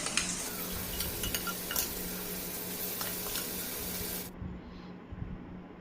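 Marinated mutton going into a pan of fried onions, a steady loud sizzle with metallic clinks and scraping of a spoon against the pan, the frying hiss cutting down sharply near the end.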